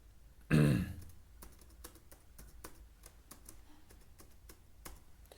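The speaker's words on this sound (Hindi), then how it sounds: "देन मैंने पासवर्ड को टाइप किया" Password being typed on a computer keyboard while filling in a CUET UG application form online: a loud bump, then a run of light, irregular key clicks, quiet and close, with no talk.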